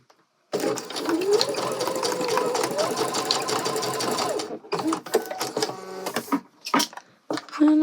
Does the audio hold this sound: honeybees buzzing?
no